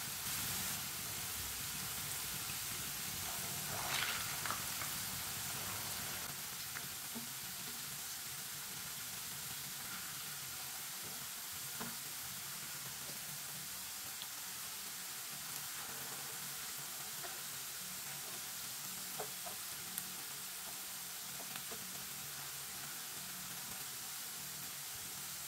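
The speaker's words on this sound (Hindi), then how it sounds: "दोनों साइडों से अच्छी तरह फ्राई होने देना" Food frying in a pan while cooking an iftar snack gives a soft, steady sizzle and hiss that runs quietly and evenly throughout, with no talking.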